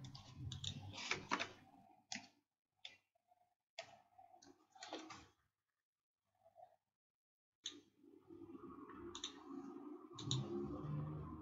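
Code is typed on a computer keyboard in quick clusters of close, crisp key clicks, broken by a few seconds of near silence before a denser run of typing resumes.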